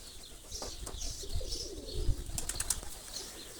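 Nikolaev pigeons flying overhead in the sky, a soft flutter of wingbeats with faint coos and chirps, distant and steady in open air, no talking.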